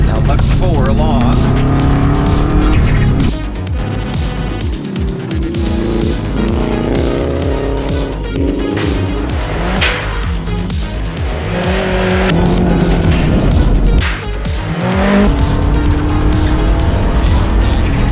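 Rally car blasting along a test stage, engine roaring loud and close with sustained revs, gear changes and tire squeal on corners, while people talk and exclaim over the noise.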